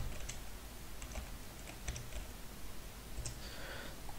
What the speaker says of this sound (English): So we need to type it in exactly as it's called.